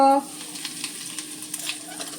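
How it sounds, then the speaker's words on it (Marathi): Mustard seeds, cumin and asafoetida drop into hot oil on a lowered gas flame, giving a steady close sizzle with small crackling pops after a brief tone at the start. "थोडीशी मोहरी जरा गॅस बारीक करते त्यानंतर पाव चमचा जिरं हिंग"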